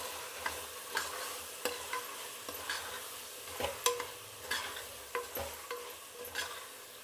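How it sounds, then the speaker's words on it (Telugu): A spoon scrapes and stirs a thick tomato, yogurt and spice masala in a pot, with a steady run of soft irregular strokes over a faint sizzle, close and fairly quiet, no voices. "ఇప్పుడు ఒకసారి కలుపుకుందాము."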